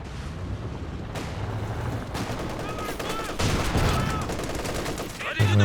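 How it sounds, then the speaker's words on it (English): Machine gun fire rattles in a Company of Heroes 2 battle, bursts of rapid shots mixed with heavier blasts and a loud crack near the end, amid dense battlefield noise. "Machine gun fire here."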